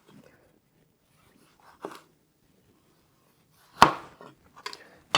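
A knife slices eggplant on a cutting board, giving a few sharp, isolated cuts with quiet pauses between them. The cuts are close and moderately loud, and no one speaks.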